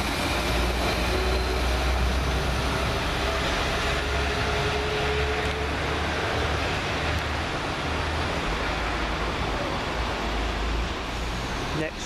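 A Class 172 diesel multiple unit passes on a London Midland line between Great Malvern and Whitlock's End near Cradley Heath station, giving a steady, loud rumble with low engine drone and rail noise that holds throughout without fading.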